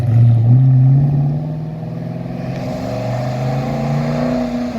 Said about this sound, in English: Beautiful burble of a 351 Cleveland.